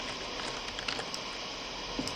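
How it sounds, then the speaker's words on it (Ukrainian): Rain falls in the Minecraft video game as a steady, soft hiss of patter with a few faint ticks, continuous and even throughout. "Чуєш? А виключи. Дощ."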